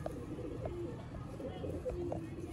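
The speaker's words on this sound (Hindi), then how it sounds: "ये भी दोस्तों नायाब की कैटेगरी के जौंसरे कबूतर हैं।" Jansray pigeons, a rare fancy breed, coo in soft repeated low notes at a loft among a setup of pigeons, several short calls spread across the moment over steady background noise.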